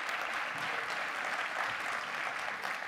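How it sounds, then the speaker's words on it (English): A room of conference attendees gives a big round of applause for special guest Baruch at a DevOps talk, a dense, even roar of many hands clapping throughout. "give him a big round of applause for Baruch"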